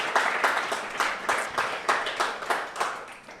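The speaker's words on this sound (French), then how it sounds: "Est-ce qu'on peut juste les applaudir ici?" Applause from a small studio audience, a modest group of hands clapping in uneven pulsing bursts that stays fairly close and steady throughout, with no speech over it.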